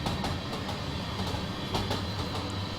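A brand new caboose rolls along the Feather River Canyon line in Train Simulator, its wheels clicking in a steady clickety-clack over a low continuous rumble, moderately loud and without voices.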